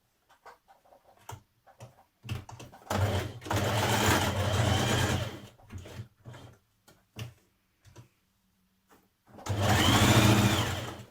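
A sewing machine stitches skirt fabric pieces for a Burda 6319 skirt in two sustained runs, with short stop-start bursts and pauses between them, close and fairly loud.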